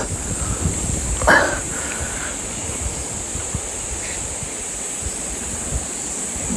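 Water from a provincial river rushes in a steady broadband wash under gusty wind noise, with a brief louder splash or knock near the start and a faint high whine throughout.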